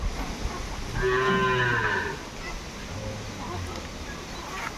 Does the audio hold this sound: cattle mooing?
yes